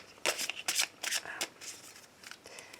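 Oracle cards shuffled by hand during a card reading, several quick riffling bursts in the first second and a half, then lighter, softer shuffling, close and alone with no talk.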